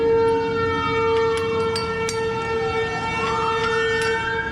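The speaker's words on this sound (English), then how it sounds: "For some reason there's always an ambulance at this exact time." A wailing siren sweeps up and down in pitch, fairly loud and steady, with traffic rumbling underneath and no one speaking.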